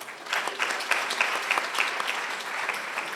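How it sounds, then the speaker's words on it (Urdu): A conference audience gives loud applause, with dense clapping and a few sharper claps standing out, holding steady throughout. "زوردار تالیاں."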